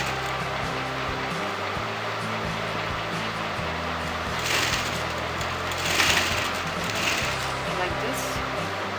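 A sewing machine stitches a blouse seam from the shoulder down to the armhole, giving a steady, moderate mechanical hum that stays unbroken throughout.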